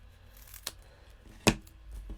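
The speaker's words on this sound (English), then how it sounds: "I'm just going to snip off a bit of this" Two quick, crisp snips as scissors trim a bit of cardstock for a shaker card, close and fairly quiet against a soft background hum.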